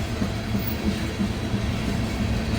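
An ethanol freight train with buffer cars rolls past close by, a dense, continuous rumble of wheels on rails with a faint rhythmic clatter.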